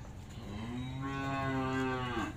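A single cow from a newly delivered lot of cream-coloured cattle lets out one long, loud moo close by, over steady farmyard background noise.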